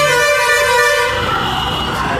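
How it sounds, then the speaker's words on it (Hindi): A vehicle horn blares in a steady, loud honk with strong harmonic tones, sustained across the whole moment with traffic rumble underneath. "लेकिन हॉर्न दबाना ज़रूरी है, कंपलसरी है।"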